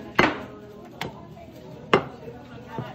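Beef ribs being chopped with a cleaver at a market stall in Merida, Leyte, three sharp heavy thwacks on a board spaced about a second apart, plus a fainter knock, with voices nearby.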